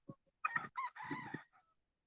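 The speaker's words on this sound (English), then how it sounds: "I hear my birds calling me." Backyard chickens and a rooster calling and clucking nearby in a few short bursts, with one longer call in the middle, close and fairly loud with no talk.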